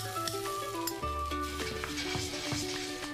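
Onion sizzling in a hot frying pan, a steady broadband crackle and hiss running continuously, close and fairly loud, with a few faint tonal clinks and hums underneath.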